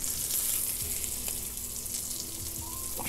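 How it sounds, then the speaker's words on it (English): Fish sizzles and crackles in a hot pan while searing, a steady hiss with occasional pops and light clinks of utensils. "it's sizzling right away"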